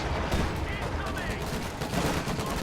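Dense, continuous small-arms fire and scattered shots aimed at an American Sherman tank during a Company of Heroes 2 match, a steady crackle with some voice faintly present underneath.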